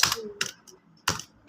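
Several short clusters of computer keyboard keystrokes as text is entered into Excel cells, crisp and close, separated by brief silent gaps.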